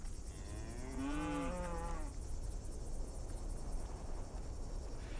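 A single drawn-out cow moo in the Western video game Desperados 3, loud and near, rising then falling over about a second, set against a constant bed of insect and cricket chirring with no talk.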